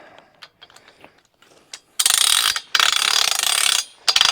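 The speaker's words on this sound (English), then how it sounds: "Now I can go ahead and crank it up." A Logrite log arch ratchet is cranked to lift a log, first with a few light metallic clicks and then with loud, close bursts of rapid ratcheting, separated by brief pauses.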